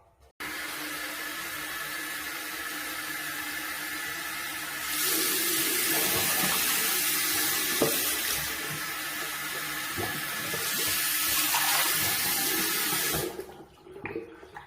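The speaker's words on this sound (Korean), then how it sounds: "첫 번째는 일단 음료수통을 물에 담가 씻어줍니다." A drink container rinsed under a running tap, giving a steady, loud rush of water that thickens at times with splashing and gurgles as the container is moved, then stops abruptly near the end.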